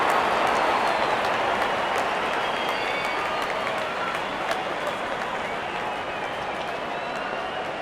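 Cricket stadium crowd applauding and cheering, a dense, steady wash of clapping and roar that stays loud throughout the whole stretch, with no clear break or pause.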